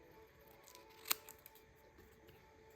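Scissors cut through paper to trim out a small paper flag, with a sharp close snip followed by a few softer clicks in a quiet room.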